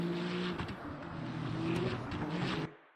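LMP2 prototype race car in Le Mans Ultimate sweeping past, a brief loud engine drone with a rising-then-falling pass, ending abruptly.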